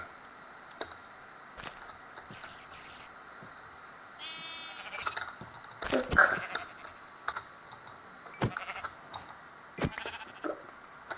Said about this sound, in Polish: Muszę pozabijać parę owiec